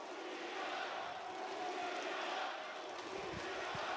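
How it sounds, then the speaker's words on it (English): Large esports crowd at the PGL Astana 2025 grand final roaring steadily with rhythmic Astralis and Furia chants blended into a dense, continuous wall of sound, loud and reverberant as in an arena. "We're hearing Astralis chants, we're hearing Furia chants."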